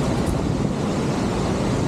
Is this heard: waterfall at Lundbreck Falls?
yes